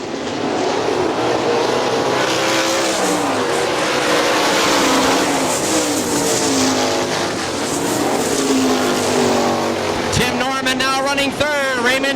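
410 sprint cars racing at Hartford Speedway Park in Hartford, Michigan, engines roaring loud and continuous as a pack battles, pitch rising and falling as cars pass, with a commentator talking over the noise.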